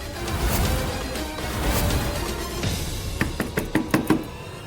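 Several sharp knocks on a door, loud and close, come in a quick cluster near the end after a stretch of rumbling background noise, with no talk over them.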